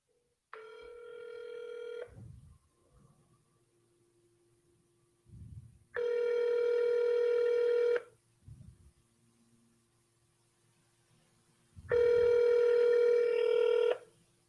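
Telephone ringback tones on an outgoing cold call to a for-sale-by-owner seller, three long multi-tone rings about two seconds each with pauses between them, with faint low thumps in the gaps and no talk.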